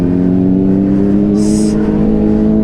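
A Honda CBR 600RR sport motorcycle on a ride toward Bath, UK, gives a steady, loud engine drone with firm tonal harmonics and a brief high whine partway through.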